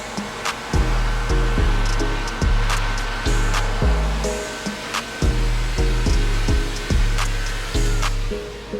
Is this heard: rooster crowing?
no